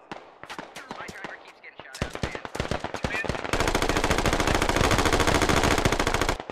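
Rapid video game gunfire crackles in sharp close bursts, then settles into a sustained, dense automatic rattle during a military shooter match, with no rocket impact standing out.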